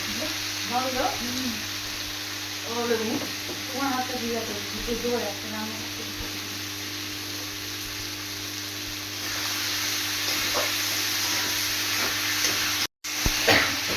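A voice speaks briefly near the start over a constant sizzle of vegetables frying in a pan, which continues alone afterward with faint stirring.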